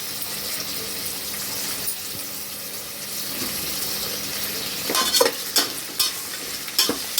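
Curry leaves and onions fry for a goat head curry, a soft steady sizzle in the pan with a few louder stirring scrapes and splashes toward the end.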